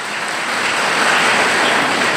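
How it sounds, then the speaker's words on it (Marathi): A large audience claps loudly and steadily in honour of a respected elder at a gathering of trainees, a thick unbroken roar of applause with no talking. "बाबासाठी यासाठी जोरदार टाळ्या वाजवल्या पाहिजे"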